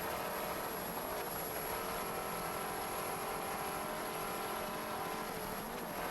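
A Fountain Racing Team offshore powerboat racing at high speed, a dense, steady engine roar with wind and water rush holding at a constant level throughout, no speech.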